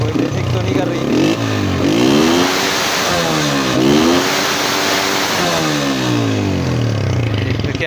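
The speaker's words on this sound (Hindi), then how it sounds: "पहले एक्सीलेटर दे के मैं आपको, ये आ गया आपका एक्सीलेटर" A Honda CB125F motorcycle engine is revved repeatedly with the throttle, loud and close, its pitch sweeping up and falling back in several blips over a steady idle, with someone talking over it.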